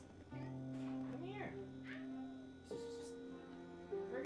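A cat meows in the video game Project Zomboid, several drawn-out calls spread through the clip over a steady game backdrop with a humming tone, each cry fairly close and distinct.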